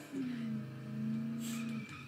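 A truck engine in the Dead Island video game, a steady droning hum that rises and holds, with a brief squeal-like tone over it, loud and close.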